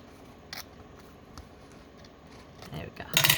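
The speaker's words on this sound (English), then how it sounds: "I do have these tiny little scissors that I can run this along here," Tiny craft scissors snip through paper while an envelope folio with pre-made ephemera is finished off: faint, scattered clicks, then a louder, close crisp cutting burst near the end over low room noise.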